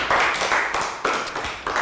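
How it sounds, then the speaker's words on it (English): A classroom of young students applauds a classmate, a steady burst of dense clapping lasting a couple of seconds, close and fairly loud. "And a round of applause for Lakgao."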